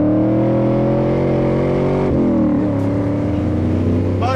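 A 7.0-litre V8 in a homebrew RUFFIAN Mustang muscle car rumbles loud and close, its steady deep idle swelling into a brief rev around the midpoint before settling back to a heavy, even drone.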